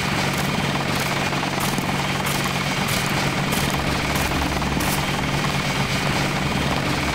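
Helicopter in the video game Deus Ex, a steady rhythmic rotor thump with a constant engine drone, loud and close, continuing evenly throughout with no talking.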